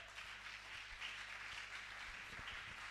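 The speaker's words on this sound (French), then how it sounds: "Applaudissez le Seigneur Jésus." Distant, steady applause from a church congregation praising Jesus, a continuous faint wash of clapping with a low hum beneath it.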